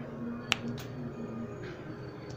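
A single sharp finger snap rings out once near the start, close and crisp, followed by quiet room tone with faint low hum.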